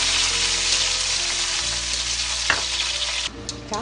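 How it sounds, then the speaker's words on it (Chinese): Seasonings and cilantro sizzle hard in hot oil in a wok while being stir-fried for Shaanxi-style liangpi, a dense steady crackle with a few scraping knocks of the utensil and a sudden quieter stretch near the end, with no speech. "把刚才那些调料放入锅里炒香"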